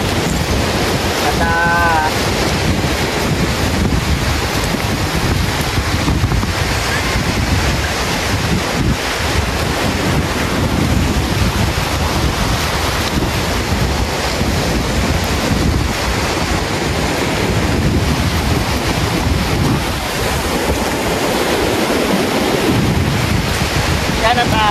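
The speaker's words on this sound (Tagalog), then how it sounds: "malalaki yung alon." Loud, continuous roar of big ocean surf crashing on Hannah's Beach in Pagudpud, Ilocos Norte, with heavy wind buffeting the microphone throughout and no one speaking.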